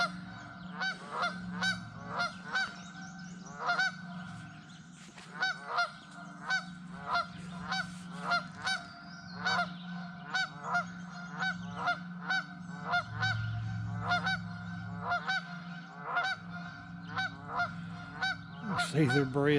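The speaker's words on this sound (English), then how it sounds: "Oh, these geese are loud this morning." Geese honk loudly and repeatedly on an early morning outdoors during a fishing and trapping outing, a steady run of sharp, rhythmic calls from a nearby flock filling the whole stretch.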